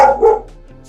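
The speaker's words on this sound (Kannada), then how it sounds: "ಇಲ್ಲೊಂದು ನೋಡಿ ಡಾಗ್ ಐತೆ" A dog near a parked vehicle at the entrance to the Jog Falls area in Karnataka gives a single loud, close bark that trails off quickly.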